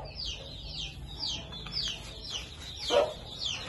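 Chickens cluck in a cage, with a sick bird among them that cannot walk. Repeated short calls sound close, with one louder squawk near the end.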